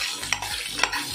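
Bhindi (okra) frying in a pan, with a steady sizzle broken by two distinct scraping stirs of a spatula, close and alone with no voices.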